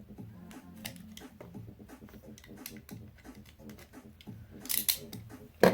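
A Stanley knife slicing through plastic hoop tubing makes close, irregular crunching and scraping strokes that grow louder toward a final sharp snap as the cut finishes.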